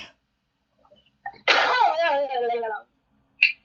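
A single loud, close sneeze from a person bursts out after a short intake of breath and trails off in a long wavering exhale, with brief sounds on either side.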